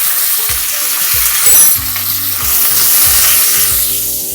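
Curry leaves and hing hit hot oil for Gujarati kadhi, crackling and sizzling loudly up close. Occasional stirring knocks come through the steady spatter.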